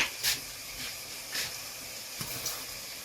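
Ingredients sizzle and hiss in a pan while being dry-roasted for a Thai frog curry, a soft steady crackle with a few brief louder bursts of steam.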